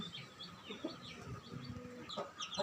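Soft, scattered clucking from several hens nearby as they are fed, with quiet chirpy calls over a calm background.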